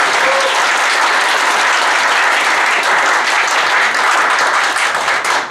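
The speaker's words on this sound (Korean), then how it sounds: "뜨거운 박수로 맞이해 주시기 바랍니다." A lecture hall audience of university students gives sustained, dense applause welcoming a visiting professor onstage, a steady wash of many hands clapping at even loudness throughout with no speech.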